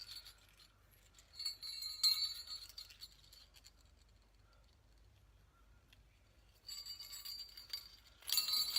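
Small bells jingling on twine while a holiday gift tag is being made, giving faint, light tinkling clinks in scattered bursts against near silence.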